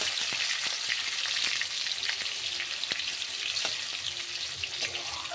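Tomatoes fry in a pan after the spice tempering for a vegetarian dalna, with a loud, continuous sizzle broken by occasional soft taps as they are stirred.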